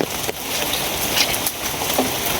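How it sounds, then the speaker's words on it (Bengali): Heavy rain pours down steadily at a village house, a dense, loud, even hiss of drops on surfaces with a few louder splashes and no voices. "এই যে বৃষ্টি শুরু হয়েছে"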